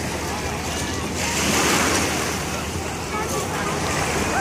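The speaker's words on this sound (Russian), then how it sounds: "Сегодня море волнуется." Rough sea waves at a crowded beach in Rafailovichi, a broad continuous wash of surf swelling and receding with strong wind noise on the microphone, no clear voices.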